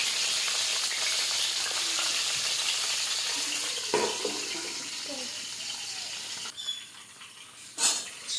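Hilsa paturi fries in a covered pan on a low flame, a soft, steady sizzle that later turns brighter and more open, broken by a few clattering knocks.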